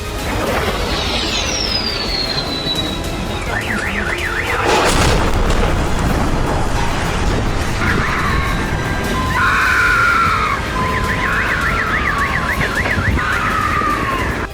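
A missile strike on Ukraine: one loud, sharp blast erupts amid wailing emergency sirens that rise and fall through the scene, with traffic rumble underneath and no voices.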